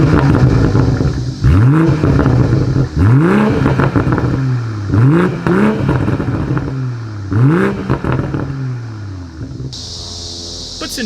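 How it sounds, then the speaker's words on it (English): Exhaust note from a 2020 BMW M340i with dual outlets and powder-coated tips, revving repeatedly in loud, rising-and-falling bursts that climb and drop about five times, then settles to a steady idle. "dual exhaust outlets with powder coated tips, so you guys know what we have to do next. As always, here is that exhaust clip."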